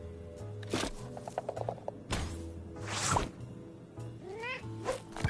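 Short cartoonish meows and cat sounds come from the Exploding Kittens VR video game, mixed with whooshes, thumps and soft game music at low volume.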